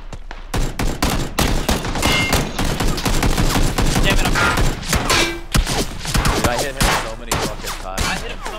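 Rapid bursts of gunfire in the battle royale game PlayerUnknown's Battlegrounds, loud and continuous, with dense volleys and a few thuds during a close firefight behind a wall.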